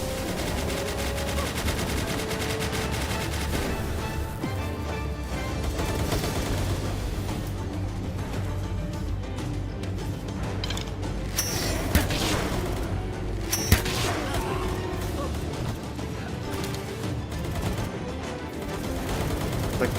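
Enemy gunfire in Palworld rattles on without a break: dense, loud machine-gun bursts and scattered booms layered over game noise, with only faint talk.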